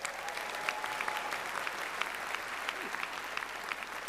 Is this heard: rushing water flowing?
no